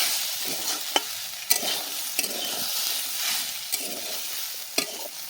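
Chickpeas and potatoes frying in a pan, with a steady soft sizzle and repeated scraping, clinking stirs of a utensil against the metal at irregular intervals, close up with no talk.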